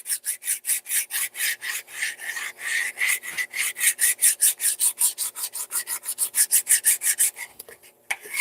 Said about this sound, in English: It's all that grog that's in my clay. So I'm kind of burnishing the clay, kind of make it smooth again.